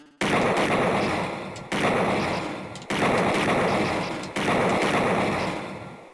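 Four loud, evenly spaced gunshots ring out at a video game shooting range, each sharp blast trailing off in a long decaying echo before the next, with no voices over them.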